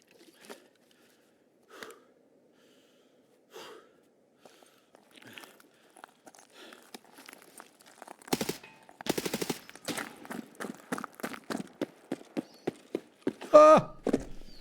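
Gunfire in the video game Escape from Tarkov, a few sparse distant shots at first, then dense rapid bursts of automatic fire building in loudness, mixed with excited voices.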